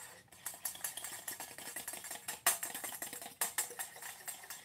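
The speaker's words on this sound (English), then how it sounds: "And we just want to mix that up." A black pepper and honey mixture stirred in a glass bowl with a utensil, giving quick uneven scraping clicks and taps that repeat steadily and close, with a couple of sharper knocks against the glass.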